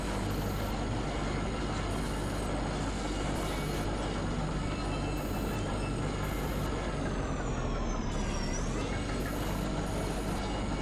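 A mine tram in the video game Kentucky Route Zero runs with a dense, steady rumble and rattling hum, while faint beeping tones repeat at intervals above it throughout.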